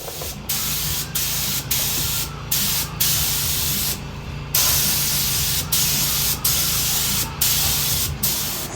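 Spray gun laying a heavier second coat of primer on the undercarriage of a Mazda RX-7 FD, a loud steady hiss in repeated passes, cut by about ten brief pauses.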